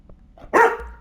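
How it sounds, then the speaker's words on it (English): A dog barks inside the video game Control: one loud, close bark after a few faint soft sounds, trailing into a short tail. "why are you barking?"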